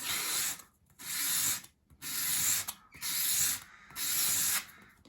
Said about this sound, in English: hold the piece against your sandpaper at a 45-degree angle and keep it at that angle as you sweep it towards you